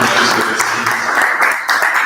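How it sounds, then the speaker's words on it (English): Audience applause at the Ghana pavilion event, steady dense clapping that holds loud throughout with a brief dip near the end, voices faintly mixed in. "Please give her a round of applause."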